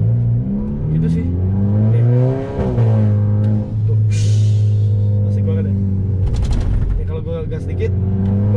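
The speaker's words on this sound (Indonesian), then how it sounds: "Gas dikit, gue lepas. Suaranya turbo ya." A VW Scirocco 1.4 TSI turbo engine revs up and down, its steady low drone rising and falling with throttle blips and a turbo whoosh, loud and close, with someone talking over it.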